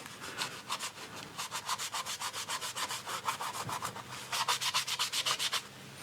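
An old metal part from a Kriesler being scrubbed to remove surface rust, fast rhythmic rasping strokes up close in steady bursts with a brief pause in the middle.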